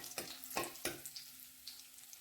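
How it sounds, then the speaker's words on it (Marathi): Raisins frying in hot ghee give a soft, close sizzle, with a few crisp stirring scrapes and pops at the start that fade to a quiet crackle. "तूप गरम झाल्यानंतर मनुके घालून घेणार आहोत. मनुके चांगले परतून घ्यायचे आहेत."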